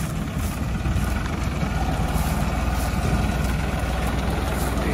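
A Swaraj tractor with a loaded trolley idles nearby in a farm setting, its diesel engine giving a steady, loud low rumble throughout with no break.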